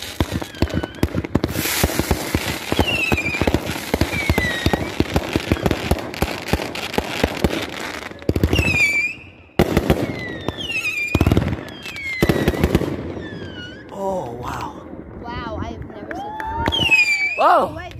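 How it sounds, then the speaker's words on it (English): A spray firework goes off outdoors with a dense run of crackling pops and hissing bursts, then sharp whistling streaks and separate loud bangs, while people nearby exclaim and talk. "We had a spray firework."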